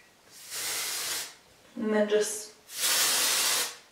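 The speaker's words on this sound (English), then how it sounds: "I use a little bit of my Oribe dry texturizing spray and just a tiny bit." Two long, loud hissing bursts of Oribe dry texturizing hair spray from an aerosol can, close by, with a brief spoken word between them.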